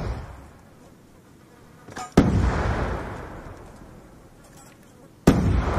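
Two sharp grenade blasts in a competitive first-person shooter, landing about three seconds apart, each a loud broadband crack that decays into a long rumbling tail, with no one talking over them.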